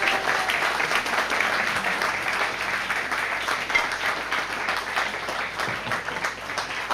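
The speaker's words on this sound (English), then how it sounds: "just have a round of applause for Owen and sous chef" Audience applause in a chefs' demo tent at a crab festival in Salcombe, a steady dense crowd clapping that fills the whole stretch, near and even in loudness with no talk over it.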